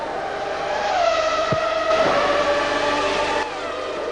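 Formula One cars racing at the 1994 Monaco Grand Prix, a Ferrari among them: a loud, continuous high-revving engine whine with shifting pitch and a brief sharp transient midway, no voices.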